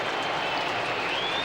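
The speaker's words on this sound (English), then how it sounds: "earns applause from the North supporters in the outer" Applause from North Melbourne supporters standing in the outer at a 1987 football match against Melbourne: a steady, dense wash of clapping from a distant crowd.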